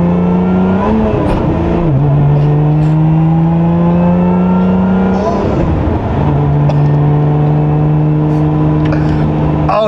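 A Lotus Eletre accelerates hard on the road, the engine note rising and dropping through quick gear shifts. The sound is loud and close, heard from inside the car.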